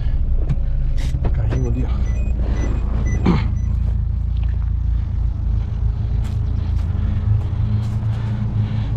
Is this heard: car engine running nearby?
yes